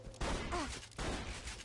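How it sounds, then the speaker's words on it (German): Shotgun blasts in the video game Borderlands 2, two loud, close booming shots roughly three-quarters of a second apart, each trailing into a short rumble. "Zeig dir mal hier die Shotgun."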